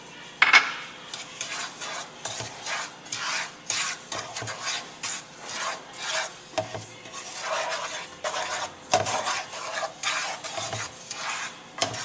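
Dry sugar, flour and cornstarch stirred briskly in a pre-warmed skillet for a coconut cream pie filling, a steady scraping and rasping of utensil against pan in repeated strokes, close and fairly loud with no voice.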